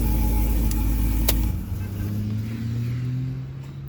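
A 2009 Cadillac CTS-V idles steadily up close, a deep low rumble that drops slightly after a brief high click, with no one speaking.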